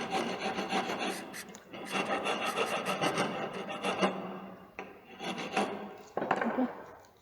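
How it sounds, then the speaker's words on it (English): A rasp file leveling the edges of a groove cut in wood in a carpentry shop: close, repeated rough scraping strokes in an uneven rhythm, with brief pauses between bursts of rasping. "So again we will be leveling the edges with rasp file"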